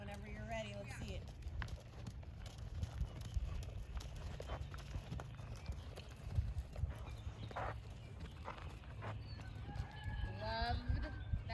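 A horse canters through a transition with soft, rhythmic hoofbeats at moderate distance, while a rooster crows and a voice talks in the background.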